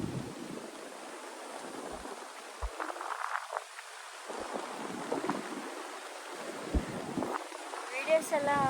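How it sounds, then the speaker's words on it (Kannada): Wind gusting across a hilltop at Malai Mahadeshwara Hills, a steady broadband rush rising and falling in gusts, with scattered bumps and buffeting against the microphone throughout. "ಏನು ಮಸ್ತಾಗಿ ಗಾಳಿ ಬೀಸ್ತಿದೆ ಇಲ್ಲಿ"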